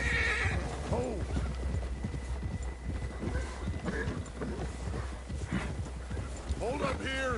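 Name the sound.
horse hooves clip-clop in a PS4 video game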